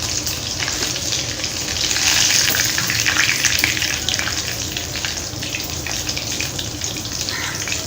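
Chicken wings fry in oil with a dense, continuous bubbling sizzle, loud and close, swelling slightly midway and holding steady to the end.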